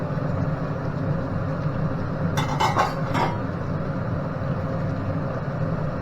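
A brief metallic clink of a cooking pot lid being lifted and utensils knocking, a quick cluster of bright taps over a steady loud background hiss of the stove, while eggplant curry cooks.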